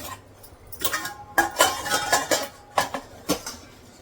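Metal pans and utensils clank and scrape in a series of sharp knocks, close by, with no talking, as a kadhai is set on the stove to heat.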